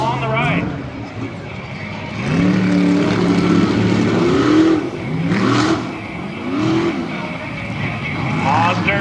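Chevrolet and multicolored Ford Raptor trucks in a Tough Trucks Challenge qualifying run at Lima, Ohio, rev and roar in rising and falling bursts, loud and close, with an announcer talking continuously over the engines.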